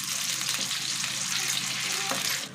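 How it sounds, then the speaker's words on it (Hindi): Garam masala hits hot oil in a pan for potato tahari, producing a loud, dense, continuous sizzle close by that runs unbroken until it eases off at the very end. "हमारा गर्म हो गया तो इसमें हम गरम मसाला शामिल कर देंगे और इसको हल्का सा"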